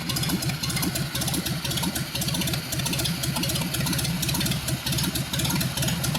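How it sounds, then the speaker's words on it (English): An engine runs steadily up close, a loud, even mechanical chugging with a continuous rumble and no pauses. "the engine runs actually very nicely"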